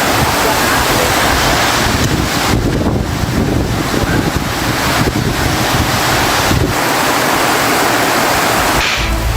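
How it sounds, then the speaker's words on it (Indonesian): Strong wind roars and buffets the microphone continuously over a dense rush of heavy rain, loud and unbroken throughout. "video amatir warga saat hujan deras disertai angin kencang"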